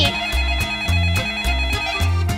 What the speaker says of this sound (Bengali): এই সময় কে আবার ফোন করলো